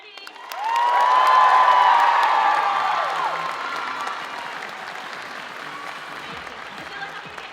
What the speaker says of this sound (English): Everyone give one more cheer for Teddy.